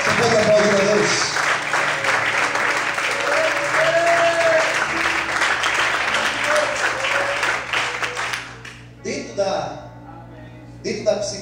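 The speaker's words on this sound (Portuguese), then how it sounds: "Você pode aplaudir a Deus?" Church congregation applauding together, a dense sustained burst of clapping that fills most of the stretch, with voices mixed in, before thinning into scattered claps and speech near the end.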